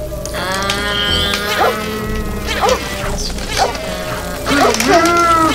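A bee buzzes in the Lego Harry Potter Years 1-4 game on Xbox 360, with a steady droning hum running under excited voices talking and shouting over it.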